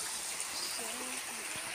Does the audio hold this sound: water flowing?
yes